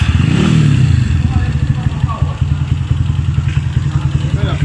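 A Honda CG160 motorcycle engine with programmable TBI fuel injection runs close by with rapid, rattly firing pulses, swelling briefly as it's revved then settling into a steady idle.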